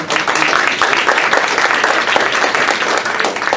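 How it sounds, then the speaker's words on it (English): Audience applause at a school board meeting, a steady loud wash of many hands clapping together without pause, filling the room and carrying on alone without speech. "That you can all clap for because those are pretty good."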